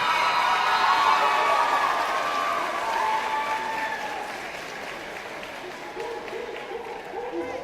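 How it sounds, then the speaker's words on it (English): A high school graduation audience applauds at length, cheering and children shouting over the clapping, which slowly fades as voices carry on. "give all those people who are embracing you a round of applause"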